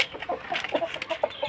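Chickens cluck softly in a few short, irregular calls while pecking at papaya, fairly close and faint, with no talk over them.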